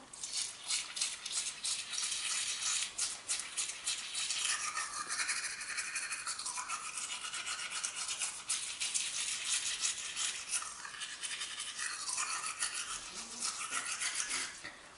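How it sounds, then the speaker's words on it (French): Steady scratchy bristle scrubbing of a toothbrush brushing teeth with toothpaste, close and continuous with quick rhythmic strokes throughout, no voices. "commencer à me brosser les dents en serrant les dents"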